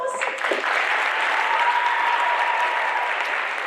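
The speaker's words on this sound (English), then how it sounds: "Give her a round of applause." Steady, dense applause from a school assembly audience at a Black History Month event, loud and sustained for several seconds without letting up.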